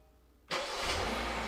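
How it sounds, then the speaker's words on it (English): A Kia Optima engine is started remotely: near silence, then an abrupt crank and catch as the engine fires and settles into a steady idle, heard close and alone. "And here you go, the car started."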